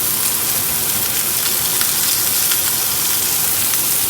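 A flipped sous vide ribeye steak sears in a hot pan, making a loud, dense, continuous sizzle that holds steady throughout with no talking.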